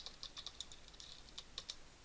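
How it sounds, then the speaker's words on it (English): Quick, faint keystrokes on a computer keyboard, about a dozen light clicks in an uneven typing rhythm against a quiet background. "you just have to type in Notepad++"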